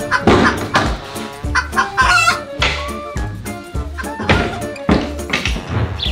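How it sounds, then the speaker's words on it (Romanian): A hen clucks repeatedly up close, loud rhythmic clucks and cackling bursts with a rooster-like cry among them, filling the whole stretch without any talking. "Găinușă Cotcodac."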